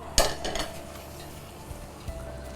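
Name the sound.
mixing roasted coconut, cashews, raisins, almonds for puttu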